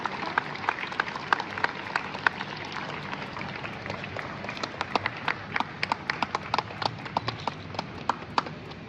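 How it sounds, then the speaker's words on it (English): Students at a Kerala Public School felicitation applaud for a former student, a steady wash of clapping with sharp individual claps popping out throughout, fairly distant and continuous. "I request the students to put their hands together and give a thunderous applause for Mr. Atif Wakar."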